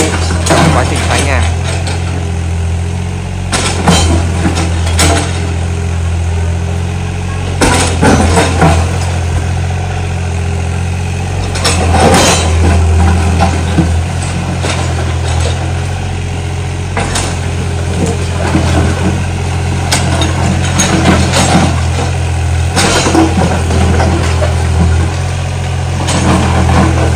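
A diesel excavator engine runs steadily at a low rumble while demolishing a house, with intermittent crunching and clattering bursts of debris throughout, fairly loud and close.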